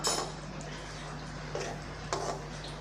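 A spoon stirs brinjal thokku with mint leaves in a pan, giving a few soft clinks and scrapes spaced apart over a quiet background hum.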